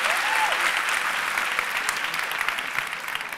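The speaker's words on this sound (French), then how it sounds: "Est-ce qu'on peut l'applaudir, s'il vous plaît?" An audience claps steadily for a few seconds at a church talk, a dense even wash of applause with no voices on top.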